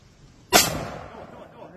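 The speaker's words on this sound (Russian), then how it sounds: "Выстрел!" A single weapon shot fires close by at the front line in the Kursk fighting, a sharp loud crack followed by a rumbling decay, with no talk over it.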